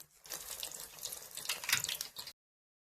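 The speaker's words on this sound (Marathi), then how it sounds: "तेल तापलंय, पान टाकून घेते." A battered taro leaf dropped into hot oil gives a busy, crackling sizzle, close and fairly loud, for about two seconds before cutting off.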